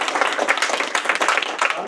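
Audience applause at a Gujarati community welcome ceremony, a dense and steady patter of many hands clapping together for about two seconds, with some voices mixed in.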